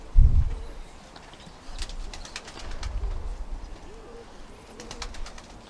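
Pigeons cooing in a loft, soft low repeated coos from several birds close by, with a brief thump of movement at the start and no talk.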